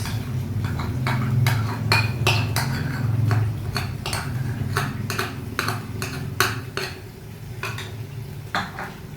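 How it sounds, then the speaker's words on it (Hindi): Ginger garlic paste going into onions already frying in a pan for a Pakistani kadhi pakora dish, heard as repeated sharp metal spoon clinks against the pan over a steady low sizzle and stirring scrape, close and fairly loud, with no talk. "इसको डाल के 2 मिनट फ्राई करेंगे।"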